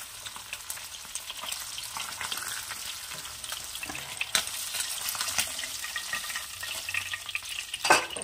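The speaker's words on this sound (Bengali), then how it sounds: "সবকটা মাছ আমার ভাজা হয়ে গেছে, এবার তুলে নেব মাছগুলো সব" Pabda fish fry in hot oil in a pan, a steady close sizzle and crackle with occasional louder spatters and stirring sounds.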